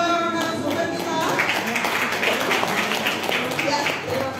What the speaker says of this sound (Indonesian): Sekali lagi tepuk tangan untuk dua narasumber kita.